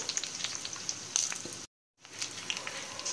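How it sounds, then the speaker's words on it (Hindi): Cutlets shallow-frying in a pan over a medium flame give a steady, close sizzle with scattered crackles and pops, broken by a brief silent gap before the frying resumes. "दूसरी साइड से भी इसे हम गोल्डन ब्राउन होने तक फ्राई कर लेंगे"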